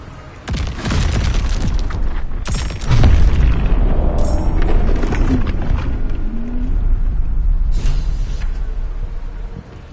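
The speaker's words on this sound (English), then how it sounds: "Nautiloid, steer clear of its missiles." Heavy booming blasts from Nautiloid missiles striking in the video game Baldur's Gate 3, a loud near explosion followed by further thunderous impacts and rumbling debris with a roaring, animal-like growl beneath, no voices.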